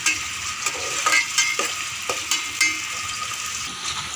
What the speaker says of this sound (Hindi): देगची में हमने घी डाला है, उसके अंदर हमने प्याज ऐड किया है।